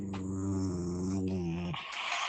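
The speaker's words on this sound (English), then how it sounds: "he's still growling at me" An animal, likely a cat, growls low and continuously in a sustained rumbling drone for over a second, then breaks off into a short rough hiss, close and fairly quiet.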